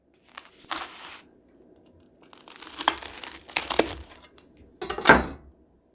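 A grilled cheese and turkey panini from a George Foreman smokeless contact grill is cut into, making sparse, close crisp crunches and crackles of the toasted bread separated by quiet pauses.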